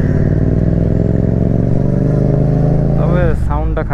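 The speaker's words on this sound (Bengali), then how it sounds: "ও যখন দেখছে আমি এক্সজস্ট দিচ্ছি মানে আমি সাউন্ড করতেছি" A car engine revs loudly through a large aftermarket exhaust, a steady deep drone holding close and strong, then a brief rise and fall near the end, with a voice briefly audible over it.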